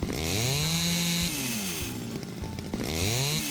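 A chainsaw cuts wood for a log house foundation, its engine revving up and down in loud, close strokes with rising and falling pitch, no talk.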